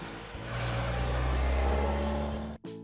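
A car engine in a kids' puzzle game revs up loudly and holds a steady high drone for a couple of seconds, then cuts off abruptly.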